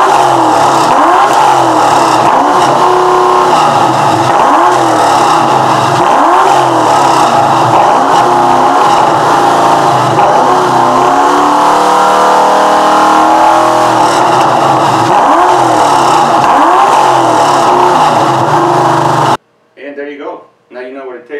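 A fourth-generation Ford Mustang GT with a newly installed catback performance exhaust and full-length headers revs loud and close, its throaty drone swelling and falling in repeated pulses before a brief voice at the very end.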